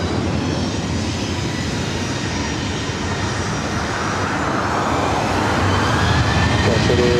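Steady broadband roar of airplane engines at LAX airport, loud and continuous for the whole stretch with a faint rising whine near the end and no talking.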